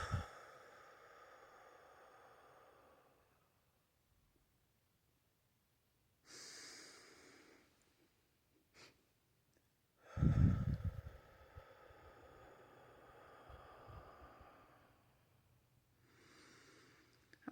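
Slow, paced breathing from one person in a guided exercise: a soft inhale, then several seconds of quiet while the breath is held, a louder sighing exhale, and another gentle breath near the end, close up with no talking.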